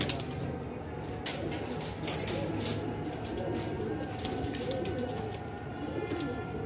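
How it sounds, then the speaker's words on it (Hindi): Pigeons on a sunny rooftop cooing in soft, low repeated calls over steady background noise, with occasional brief rustles and sharper clicks, moderately close. "ये देखिए कबूतर बैठा है।"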